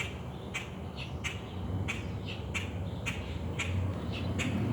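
Parent birds calling near an injured baby bird, a series of short sharp squawks repeating roughly every half second over a steady noisy outdoor background.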